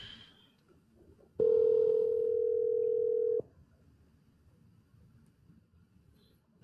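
A single long telephone ringing tone sounds while a son calls his mother, one steady loud hum lasting about two seconds before cutting off to quiet room noise.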